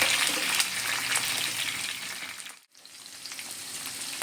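Onions and capsicum fry lightly in hot oil for paneer bhuna masala, giving a steady, close, bright sizzle that breaks off briefly near the middle and then resumes at a slightly lower level.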